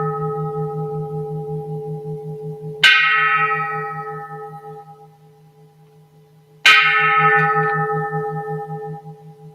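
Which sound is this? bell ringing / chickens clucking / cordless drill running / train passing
bell ringing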